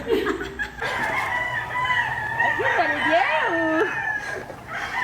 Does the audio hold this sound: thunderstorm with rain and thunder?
no